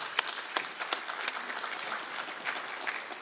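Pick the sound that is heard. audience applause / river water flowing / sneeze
audience applause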